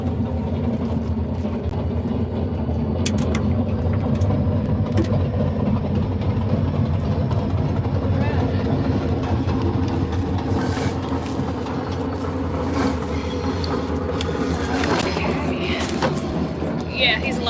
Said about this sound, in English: There's just a train going down the track.